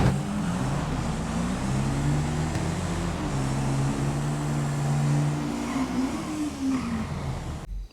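An orange Nova and a Rapid GT drag race in GTA V, their engines droning together with rising and falling revving tones. The roar holds steady for several seconds, then cuts off abruptly.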